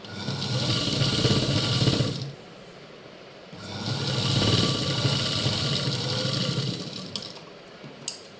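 A sewing machine stitches a long frock in two steady runs of fast mechanical whirring, separated by a short pause, with a faint click at the end.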